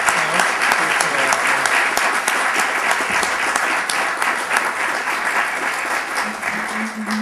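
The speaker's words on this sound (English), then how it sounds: "I'd like to give Jean a round of applause." Audience applause in a lecture hall at an architecture talk, steady and dense clapping from a full crowd that holds throughout before tapering slightly at the end.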